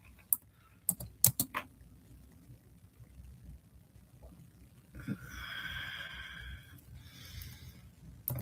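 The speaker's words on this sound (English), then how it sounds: "I know it's a lot of typing" Typing on a computer keyboard during a live jewelry sale, heard as scattered sharp clicks early on, then softer, steadier bursts of rapid keystrokes later, fairly close and with no talking.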